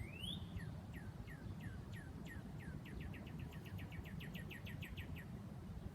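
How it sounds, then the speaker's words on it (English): A cardinal gives a quick series of sharp, descending chirps high in a tree across a backyard, faint and distant over low outdoor background noise. "there's been a cardinal that's been chirping"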